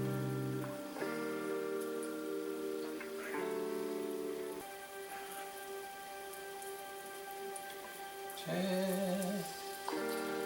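Spices roast in hot oil for butter chicken, a faint, steady crackling sizzle like light rain, under shifting background tones, with a brief word spoken.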